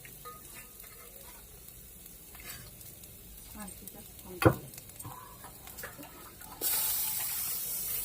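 Dry mutton stirred in a pan over a wood-fired stove, a low sizzle with scattered scrapes and one sharp clank, ending in a louder hissing burst.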